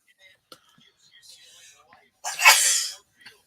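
A single loud, breathy sneeze bursts out near the mic after some soft murmuring and small clicks, then quiet returns.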